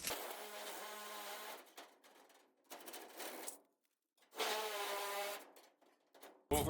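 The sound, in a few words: turbo shears cutting sheet metal duct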